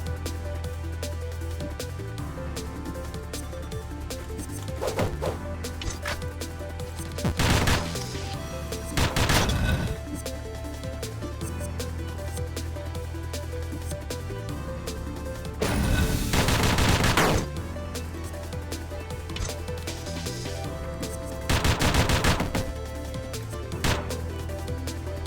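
Rapid bursts of gunfire from off-screen bullets in the game Dungreed crackle in several short volleys over a steady electronic music bed, loud against the backdrop, with quieter stretches between bursts.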